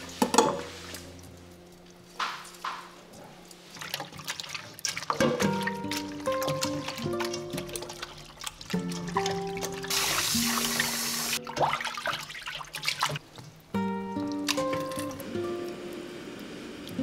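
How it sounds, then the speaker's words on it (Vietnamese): Pig intestines are rinsed with lime in water, with sustained splashing, sloshing and trickling and occasional clinks of a bowl or pot, loud and close throughout. "Cuối cùng mình rửa lại với chanh để ruột được sạch hơn"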